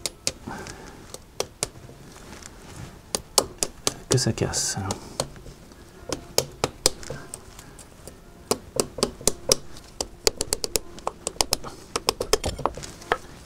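Sharp hammer taps seat an ABS ring on a Renault Twingo, struck through the old ring laid on top, giving many quick irregular knocks close by with brief talk between.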